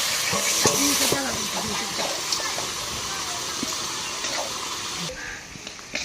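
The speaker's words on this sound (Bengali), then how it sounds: "লঙ্কা আদা একটু কষিয়ে নেবো লতিটা" Taro stolons (loti) fry with chili and ginger in a pan, giving a steady hissing sizzle with faint stirring scrapes, while someone talks over the opening seconds.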